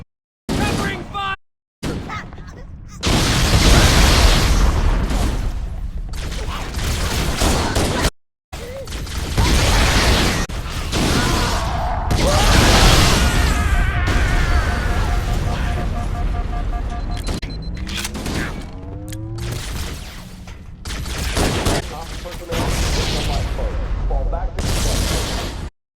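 Dense gunfire and explosions in the Halo video game, rapid bursts and booms in long loud stretches with brief silent breaks, soldiers shouting over the fighting.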